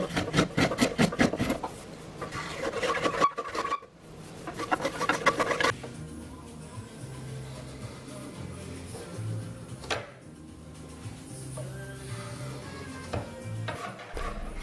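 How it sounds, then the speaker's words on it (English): A spokeshave shaves a curved wooden edge of a bedside table, refining a bandsawn curve: repeated close, rasping strokes in the opening seconds, followed by quieter scraping against a faint musical background. "I use a spoke shave or a couple of spoke shaves to get rid of all the bandsaw marks and just refine"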